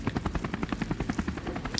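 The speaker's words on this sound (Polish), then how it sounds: "Ten helikopter wygląda jak Black Hawk amerykański." Black Hawk helicopter in the Call of Duty Modern Warfare Remastered video game, its rotor thumping in a fast steady pulse throughout, close and moderately loud with no talk over it.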